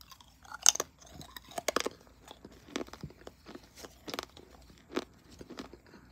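Stale gum from a 1989 Topps baseball card pack being chewed up close: crunchy, uneven bites and wet mastication clicks in an irregular rhythm, fairly quiet, with no talk.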